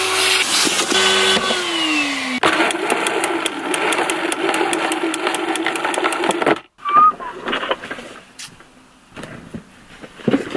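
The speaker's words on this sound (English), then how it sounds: "there is something really satisfying about vacuum cleaning, especially when you get those big pieces and it makes this noise" A loud vacuum cleaner roars, with rapid rattling clicks as bits of confetti are sucked up, then the motor cuts off and fainter rustling follows.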